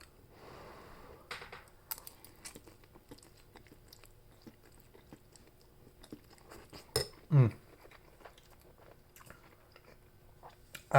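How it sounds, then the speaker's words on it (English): Close, quiet chewing of a mouthful of NongShim Shin Black beef ramen noodles is heard. Soft, wet bites and crunches repeat irregularly, and a louder clink of cutlery or bowl comes near the middle. "I'm going to take another bite."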